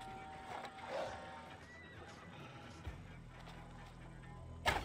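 Horse in Assassin's Creed Valhalla whinnies with a clear, mid-loud neigh early on, set among game ambience and a low rumble, with a sharper burst near the end.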